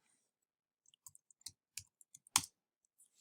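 Sparse, quiet mouse clicks during a computer sign-in, a handful of short, sharp ticks spaced irregularly, one louder double click near the middle, with no talking.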